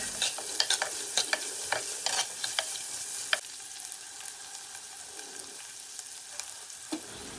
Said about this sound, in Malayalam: അതിലേക്ക് നമ്മൾ അരിഞ്ഞു വെച്ച സവാള കൂടി ചേർത്ത് നന്നായിട്ട് വഴറ്റിയെടുക്കാം